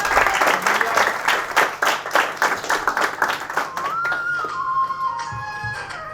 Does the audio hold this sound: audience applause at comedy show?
yes